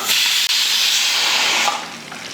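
Steam hisses steadily and loudly from a pressure cooker in a home kitchen, a continuous close rush that tapers off slightly toward the end.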